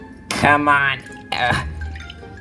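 Hot chocolate pours into a frosty cup in two bursts, a splashing liquid stream up close, with a voice speaking briefly between and after the pours.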